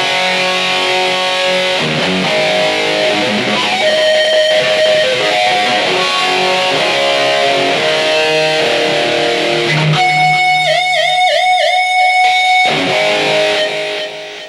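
A distorted electric guitar dialled in for an 80s tone with a signature EQ setting plays loud, close riffs of chugging chords and single notes, ending in a sustained, vibrato-laden lead phrase, with no talking.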